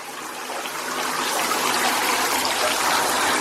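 Water pours at high flow from a 10.5 gpm Showerblaster shower head, a loud, steady hissing rush that holds constant throughout, close by and with no voices.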